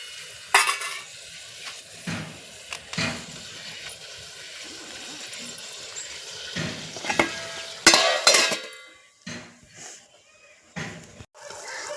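Curry simmering in a pan, a soft steady bubbling hiss running underneath, broken by occasional loud scrapes and clinks of a utensil stirring against the metal.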